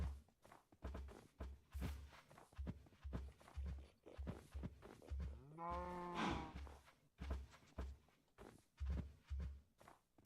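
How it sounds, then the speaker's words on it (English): Cattle in the video game Minecraft give a single drawn-out moo in the middle, set against a steady run of soft, rhythmic footsteps that continue throughout. "I also love it, the fact that we got the fluffy cows."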